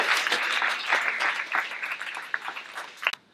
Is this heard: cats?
no